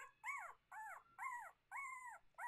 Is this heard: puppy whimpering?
yes